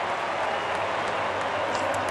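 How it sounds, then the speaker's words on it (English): A dense stadium crowd roars and applauds without a break as the Chicago Cubs clinch their place in the World Series, with faint talk under the sustained cheering. "Chris, you hear the crowd."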